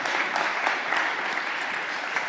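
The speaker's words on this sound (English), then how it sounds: "I think we should have a round of applause for John for reading so brilliantly" Steady applause from a church congregation, continuous dense clapping throughout at a fairly loud level.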